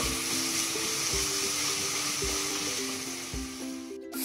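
Something sautéing toward a light golden brown, likely onions for a fusion-style chicken roast, gives a steady close sizzle with repeated scraping stirs and a faint harmonic hum beneath.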